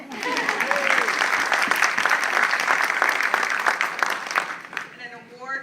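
Audience applause at a cancer survivorship celebration, a loud, full burst of clapping from a large crowd that stays strong for several seconds before tapering off, with faint voices underneath.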